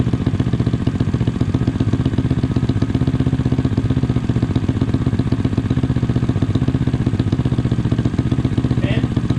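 A Honda Grom motorcycle engine on a dyno stand runs hard and steady, its loud, continuous drone pulsing with dense firing rhythm throughout, with no break in the roar.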